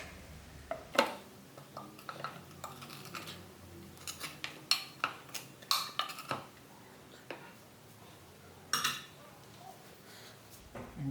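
Mealie meal scooped and tipped into a small bowl, with a run of light scraping, tapping and clinking of a utensil against the dish, close and fairly quiet, in short irregular bursts.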